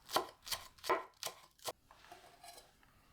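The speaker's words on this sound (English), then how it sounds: "Mince 1 spring onion." A knife chops a spring onion on a board in five sharp, evenly spaced strokes, close by, followed by faint softer scraping.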